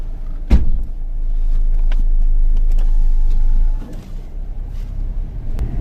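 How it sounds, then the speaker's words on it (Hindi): A vehicle approaching from behind on a road, a steady low engine rumble that builds and holds, then eases away, with a sharp knock near the start and faint clicks scattered through. "पीछे से गाड़ी आ रही है"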